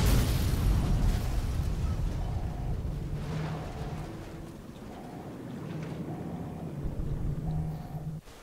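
Explosions in a Fallout DLC: a loud booming rumble at the opening that slowly decays into a lingering low roar, with smaller muffled bursts and faint tonal beeps continuing underneath.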